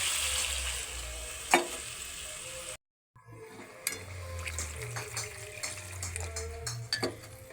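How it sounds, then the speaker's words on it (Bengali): Water goes into a hot pan of spiced potatoes for a fish curry, setting off a steady sizzle with a brief drop-out, then bubbling, spoon clinks and scraping against the pan. "এবার পরিমাণ মতো জল দিয়ে দিচ্ছি"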